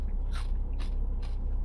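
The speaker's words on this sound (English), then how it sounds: "If you can hear that crunch, it's almost like a corn nut, but not as hard." Three sharp, crisp crunches come from biting into crispy corn on a Wendy's loaded nacho cheeseburger, spaced evenly and close up over a low steady background.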